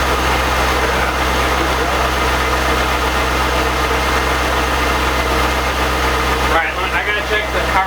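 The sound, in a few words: C5 Corvette engine idling after first start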